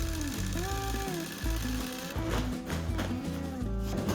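Bag-closing sewing machine stitching a certified seed tag onto a bag of organic Maine seed potatoes, a loud rapid mechanical chatter running in short bursts with brief pauses, close and without talk.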